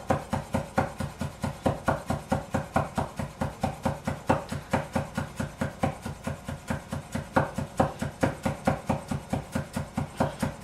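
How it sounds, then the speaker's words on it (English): A knife chops finely and rapidly on a cutting board, an even series of crisp close taps at a steady brisk rhythm, alone with no talking. "So get your knife, and you're just cutting it as fine as you can cut it."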